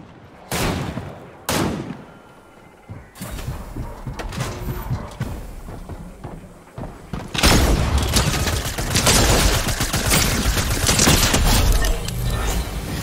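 Gunfire in the video game Fortnite: a few loud isolated shots early on, then a sustained, dense barrage of rapid shots with steady background noise.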